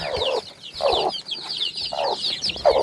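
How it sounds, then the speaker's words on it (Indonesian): Young chickens clucking and cheeping close by, several birds overlapping in repeated bursts of calls with short gaps between them, no talk over them. "Ini anak ayam yang waktu itu kita lihat, sekarang besarnya seberapa."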